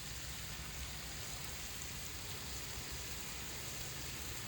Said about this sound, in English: A little bacon sizzling.